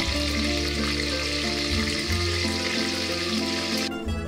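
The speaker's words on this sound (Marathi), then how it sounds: "हा मसाला तेलात छान परतून घ्या." Green ground masala paste frying in oil with curry leaves for a green fish curry, a loud, continuous close sizzle with occasional stirring, without speech.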